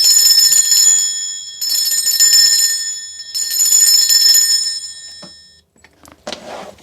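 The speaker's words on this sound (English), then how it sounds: "I'm going to be ringing this bell just to cleanse the space around us." Handheld bell rung in three long shaking bursts to cleanse a space, bright shimmering ringing that trails off between bursts and fades out, followed by a few faint rustles.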